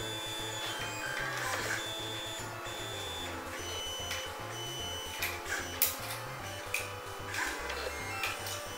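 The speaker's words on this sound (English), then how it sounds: "So right now it's printing nothing." A 3D printer works on a custom modded Xbox One controller part, its stepper motors whirring in shifting tones with steady rhythmic pulses and occasional small clicks, close and fairly loud, with no talk.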